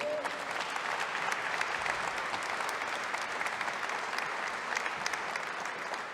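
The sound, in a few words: concert audience applauding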